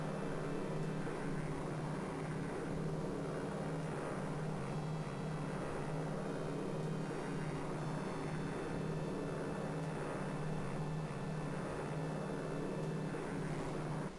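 Steady droning aeroplane cabin engine noise in the video game Callahan's Crosstime Saloon, a continuous low hum with a broad wash of higher rumble, constant and unbroken throughout, with no talk over it.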